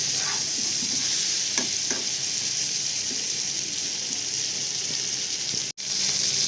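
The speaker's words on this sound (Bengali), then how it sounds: "ভালো করে এটাকে মিশিয়ে লাল লাল করে আমরা ভেজে নেবো পটলটা" Pointed gourd (potol) frying in a pan gives a steady, close hiss of sizzling oil with faint stirring clicks, continuous throughout and broken only by a brief dropout near the end.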